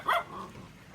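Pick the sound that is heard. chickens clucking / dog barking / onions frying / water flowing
dog barking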